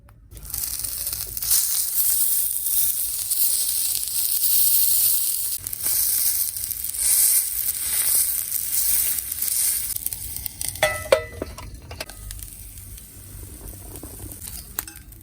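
Cod fillet sizzles steadily on a thick stainless steel griddle plate at an outdoor campsite, a loud close hiss of hot oil that crackles and spits louder near the end.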